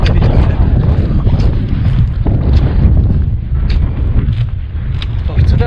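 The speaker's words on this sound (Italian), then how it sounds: "Qua su c'è un po' di vento" Wind gusting across a mountain saddle on Monte Acquaviva in the Majella range, loud rumbling buffeting against a close microphone with fluctuating gusts throughout.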